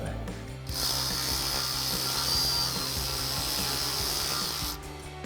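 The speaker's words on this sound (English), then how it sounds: "a 4mm Allen socket on our ratchet" A ratchet fitted with a 4mm Allen socket clicks rapidly and steadily, close up, while driving shackle cover bolts on a Barricade HD4 tubular front bumper for a 2018-2020 Ford F-150.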